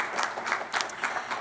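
Applause from the audience at a school board meeting, a steady burst of moderate clapping that lasts throughout without a break.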